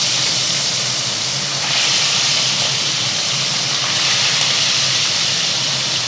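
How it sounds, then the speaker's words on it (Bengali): Loud, steady hissing sizzle of hilsa fish pieces frying in oil, close and continuous with no pauses. "এই যে তেলে মাছ দিয়ে দিচ্ছি এইভাবে এক এক করে মাছের পিসগুলো দিয়ে আমি ভেজে নেব"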